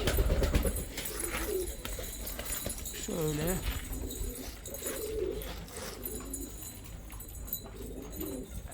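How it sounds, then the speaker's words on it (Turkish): Low coos from a flying flock of pigeons roll through a steady outdoor hum, a few soft calls in succession, with a brief spoken word. "Tam bir filo uçuyor şu anda. Bunlar filo güvercinleri."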